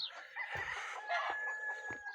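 Chickens cluck steadily close by while a rooster crows over them, with short low thumps underneath.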